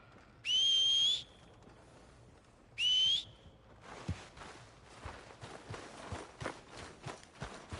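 In Red Dead Redemption 2, a rider whistles twice for a horse, then its hooves clip-clop in a quickening rhythm of soft, close steps on the ground.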